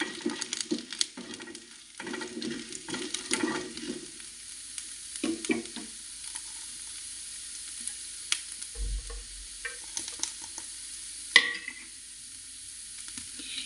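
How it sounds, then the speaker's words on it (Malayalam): Ginger frying in a pan for a simple tomato curry makes a close, crackling sizzle with scattered stirring scrapes, busier at first and then thinning to a quieter hiss. "ഇഞ്ചിയുടെ പച്ചമണം മാറി വരുന്നത് വരെ ഒന്ന് ഇളക്കി കൊടുക്കാം."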